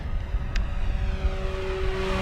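HobbyZone Husky SE 1800mm RC airplane on 5s power making a fast pass over a grass field, a steady electric motor and propeller drone, moderately near and unbroken.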